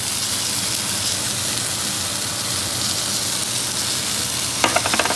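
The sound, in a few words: garlic frying in oil in a paella pan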